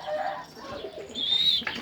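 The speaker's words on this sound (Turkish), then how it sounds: "Böyle gördüğünüz gibi beyaz taklacılarım." White tumbler pigeons coo softly at close range, a brief murmuring call with faint chirps over a quiet background.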